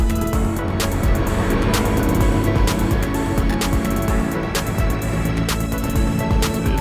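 Steady street traffic in Đồng Hới, Vietnam: a loud, continuous roar of passing engines with brief higher bursts from vehicles going by, no voices on top.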